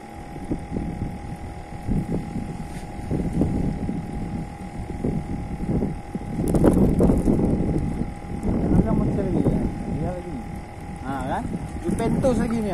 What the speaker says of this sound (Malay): Mulai berangin.